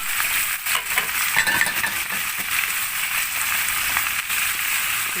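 Chicken pieces frying in a pan with turmeric, curry and paprika spices for a red Saudi kabsa, giving a steady close sizzle with light stirring and utensil clinks throughout.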